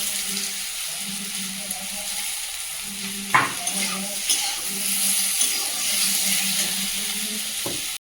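Potatoes and vegetable stems stir-fried in a pan with onion and tomato, giving a steady sizzle with intermittent scraping stirs and a few utensil clacks throughout.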